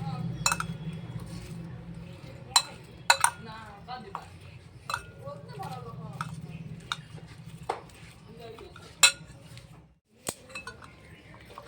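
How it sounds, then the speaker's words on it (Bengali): Sak alu makha being mixed with about half a spoon of sugar in a bowl: a steady, close run of clinks and scrapes of a spoon against dishware, with sharper metallic taps throughout and a brief pause near the end. "এবার সুন্দর করে এটাকে আমি মেখে নেব।"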